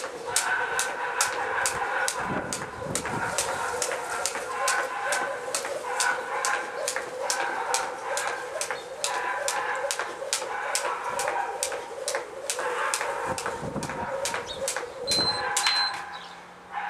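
A dog barks repeatedly in a quick, steady rhythm for a long stretch, fairly close, over faint background noise.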